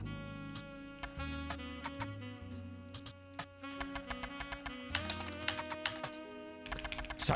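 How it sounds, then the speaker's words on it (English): Rapid typewriter keystrokes clatter in the Roottrees detective game, uneven bursts of crisp clicks that speed up toward the end, fairly faint and with no talking. "Oh, the sound! It's a typewriter!"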